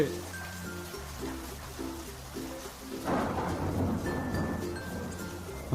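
Rain falls in an animated rainy-day fishing story, with a deep roll of thunder swelling midway over the steady patter while soft musical tones play underneath.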